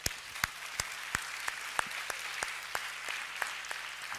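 A congregation at a church service breaks into scattered, rhythmic clapping, with sharp individual claps landing roughly every third of a second over a steady murmur of the gathered crowd.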